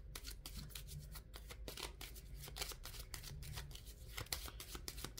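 Tarot cards laid out one after another to cover a spread, a run of soft papery flicks and slides, close and steady, with no talking.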